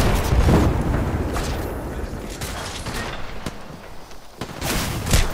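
A grenade goes off in the Apex Legends video game, giving heavy booms and blasts that are loud at the start, fade through the middle and return near the end amid the noise of a gunfight.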